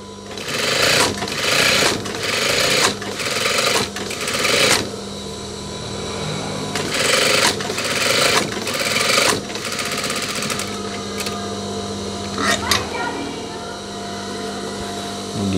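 Sewing machine stitching the cuff and waistband of a denim jacket, running in loud, steady bursts with short pauses between runs and a few light clicks near the end.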